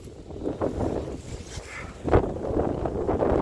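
Strong wind gusts buffet the microphone outdoors, a steady low roar with a louder surge partway through, while a vehicle sits nearby.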